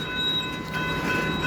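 A freight train rolls steadily past a road crossing at the Mykawa line near T&NO Junction, its broadband rumble and wheel noise holding constant and close throughout, with no pauses.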